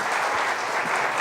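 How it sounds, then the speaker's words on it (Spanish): A dense, steady wash of audience applause welcoming a speaker onto the stage at a university business faculty event, brief and sustained at even loudness. "recibamos a nuestro director de Planeación Nacional con un aplauso"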